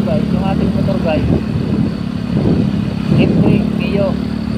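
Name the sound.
Yamaha Mio M3 125 motorcycle engine sputtering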